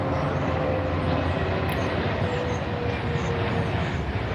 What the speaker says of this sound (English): You listen to the planes overhead?